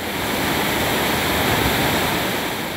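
Waterfall at 7 Cascadas near Baños de Agua Santa, Ecuador, roaring as a loud, steady wash of rushing water with no pauses.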